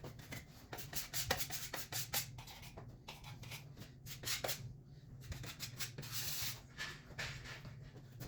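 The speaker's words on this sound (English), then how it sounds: "use a fine grit sanding sponge or 150 to 220 grit sandpaper to lightly sand the trim" Soft, scratchy rubbing strokes repeat irregularly, fine-grit sanding sponge or 150 to 220 grit sandpaper worked back and forth by hand over wooden trim, fairly quiet and close.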